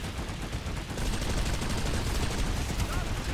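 Steady, dense automatic gunfire with heavy recoil from infantry combat in PlanetSide 2, a continuous rattle that grows louder after the first second and fills the clip, with faint game noise behind it.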